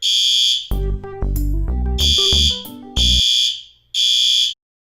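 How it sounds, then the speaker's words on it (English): A household fire alarm sounds in loud, piercing beeps in repeated bursts, with a deep musical tone playing between them before the alarm cuts off abruptly. "Oh, my fire alarm's just going off."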